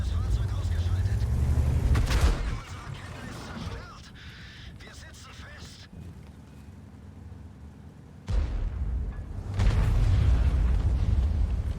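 The Maus super-heavy tank fires its Jagdtiger-type gun in World of Tanks, a few heavy booms with rumbling tails among engine noise, with someone talking over it.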